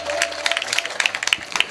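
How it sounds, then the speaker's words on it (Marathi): Audience applause at a kirtan, a devotional singing event in Maharashtra, with a crowd clapping in a steady, dense patter that rises and falls in bursts over a faint background hum. "दोघांकरता एकदा गोड टाळ्या वाजवा सर्वांनी"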